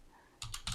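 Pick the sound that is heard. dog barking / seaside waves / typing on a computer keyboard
typing on a computer keyboard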